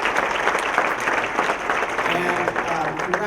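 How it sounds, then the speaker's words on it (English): Steady applause from an audience at a business appreciation breakfast, a dense, even wash of clapping that continues for the full length, with faint voices mixed in underneath. "give a round of applause to Representative Perlmutter"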